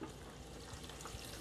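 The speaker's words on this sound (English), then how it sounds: "we want to just put a little bit of water in these" A little water poured into a pan of beets before roasting, a steady close splashing trickle that runs continuously through the moment without talk.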